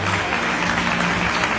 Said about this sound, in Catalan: Un aplaudiment per sentir comú.